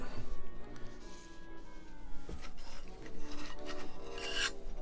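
Sandpaper or a file rasps back and forth over the bottom of a model fuel tank for a wooden Lancaster Bomber kit, a close, continuous scratchy rubbing with small bumps and clicks.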